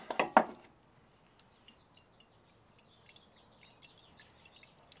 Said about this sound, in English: And we just let it drain for a second.